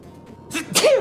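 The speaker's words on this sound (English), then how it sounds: "I didn't mean to sneeze into the microphone." A person sneezes into the microphone during a gaming stream, giving one short, loud sneeze with a quick breathy intake before it, close and clipped.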